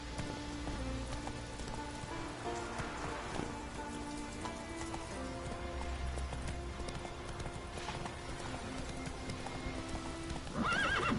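In The Witcher III: Wild Hunt, a horse's hooves clip-clop in a steady gallop rhythm through rain, with a whinny and falling raindrops around it, and no speech.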